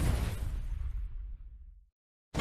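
In a sci-fi video game, a glowing plasmatic energy magazine thrown like a grenade explodes with a sudden rumbling burst that crackles and fades over about two seconds into silence, with no speech.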